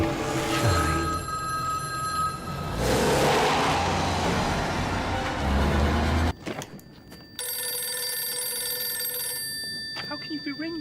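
A telephone rings inside the video game White Shadows, repeated bell tones over a loud rumbling, whooshing game soundscape that cuts out abruptly partway, then resumes with lingering tonal hums.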